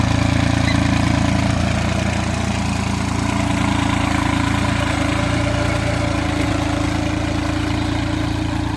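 A VST 225 DI 4WD tractor engine runs steadily nearby while sowing soybeans with a seed drill, a loud continuous low rumble with no pauses.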